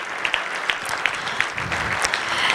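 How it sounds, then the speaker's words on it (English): At a fundraising dinner, guests give a round of applause to the performers and to veterans standing before them; a sustained wash of clapping with sharp individual claps popping out, moderately close and steady throughout. "can we give one last round of applause for all of our performers, as well as the veterans who are here standing in front of us"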